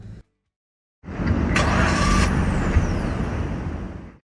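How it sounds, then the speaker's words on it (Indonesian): After a brief silence, the K15C mild hybrid engine of a Suzuki Grand Vitara starts up and settles into a loud, steady running rumble close by. "di Grand Vitara ini pas kita starter mobilnya"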